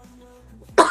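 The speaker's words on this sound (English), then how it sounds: "I am coughing." A single cough bursts out abruptly near the end, loud and close, after a stretch of quiet room tone with faint low hum.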